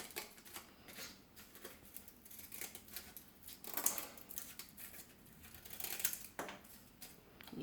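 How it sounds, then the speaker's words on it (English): Scissors cut a star shape out of folded paper, giving a steady run of quick, crisp snips close by, with a few louder cuts partway through and no talking. "You're going to cut that star out."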